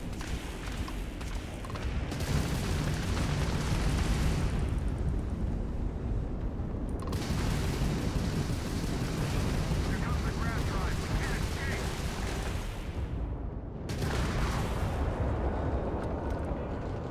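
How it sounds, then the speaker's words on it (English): Spaceship weapons fire and explosions in a Starfield space battle against a Freestar ship, a dense, loud roar of blasts and booms running nearly continuously with brief dips, voices speaking underneath. "why is this Freestar Kafir firing at me?"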